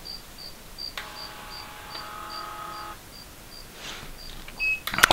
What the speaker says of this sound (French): Là, vous avez des cigales, je sais pas si vous entendez.